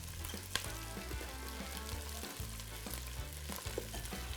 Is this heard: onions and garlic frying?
yes